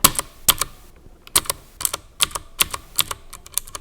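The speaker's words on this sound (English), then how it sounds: "Now, these are Cherry Blue clicky switches" Typing on a Das Keyboard 4 Professional with Cherry MX Blue clicky mechanical switches, miked up close: a quick, uneven run of sharp, loud key clicks with short gaps and no voices.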